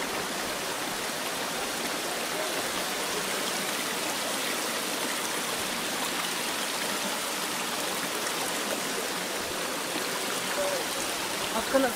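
Water flows at the Pania spring in Crimea's Grand Canyon, a steady, dense rushing and splashing that holds at an even level throughout, close and unbroken, with no voices over it.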